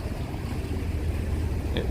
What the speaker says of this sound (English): Let's hear the water a little bit.